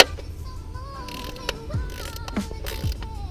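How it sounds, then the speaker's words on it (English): A 13 mm ratcheting wrench loosens the PCV valve cap on a BMW E90, giving a few faint, close mechanical ratchet clicks over a low background hum. "I'm going to use this ratchet here,"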